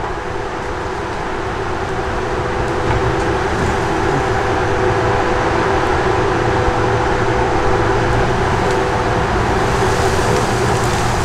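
A grapple skidder with a 19-foot square grapple builds a drag of logs during a forest thinning job, its engine a loud, steady, heavy drone that holds without a break throughout.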